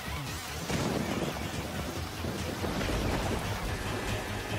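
Rain pours onto the track in a racing video game running on the Cemu emulator, a dense, steady hiss with low rumbling underneath, continuous and fairly loud with no voices.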